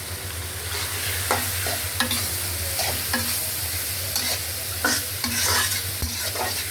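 Fried rice with egg and vegetables is stir-fried in a hot pan: a continuous sizzle broken by repeated rhythmic scraping strokes of a spatula, close and fairly loud with no speech.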